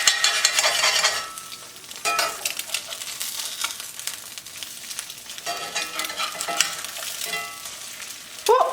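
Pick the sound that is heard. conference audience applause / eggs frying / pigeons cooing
eggs frying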